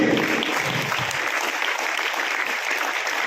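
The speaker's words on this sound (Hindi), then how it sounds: "जोरदार तालियां" A burst of loud crowd applause, dense clapping continuing steadily.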